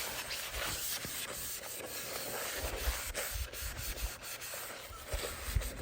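Paper towel rubs and wipes over a wood-turned box elder end-grain piece wet with mineral spirits on a shellac finish, continuous close scratchy swishing with uneven strokes and occasional soft knocks.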